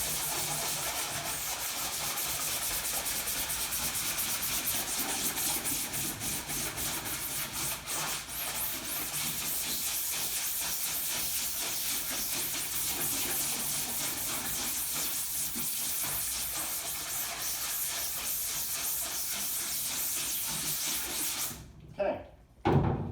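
A screen being scrubbed during degreasing gives a continuous hissing, bubbly scrubbing texture that stays fairly even, then cuts out near the end with a few brief knocks.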